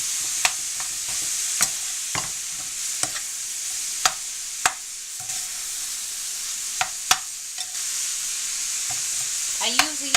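Ground meat mixed with vegetables, sizzling in a pan for lasagna, stirred with a spoon: a steady frying hiss runs throughout, broken by sharp, irregular scrapes and clinks of the spoon against the pan, close and fairly loud.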